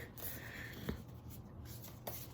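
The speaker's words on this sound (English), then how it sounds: "So I'm just going to shuffle these really quick." A deck of cards is shuffled by hand before a zodiac reading, giving a soft continuous papery rustle with a couple of sharper riffling snaps, close up and with no talking.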